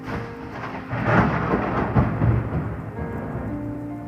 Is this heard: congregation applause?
no